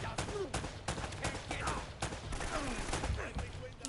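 Rapid gunfire rattles through an Uncharted: Drake's Fortune firefight, repeated sharp shots in quick irregular bursts, loud and close, with other game sounds between the bursts.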